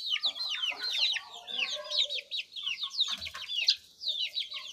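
A cage full of Aseel chicks gives off a dense, nonstop chorus of high chirps and peeps. The calls overlap near and loud throughout.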